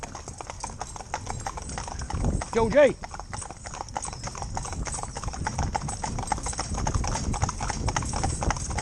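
Hooves of a four-in-hand team of horses clip-clop in a steady, continuous rhythm while a voice calls out briefly partway through, with outdoor rumble throughout.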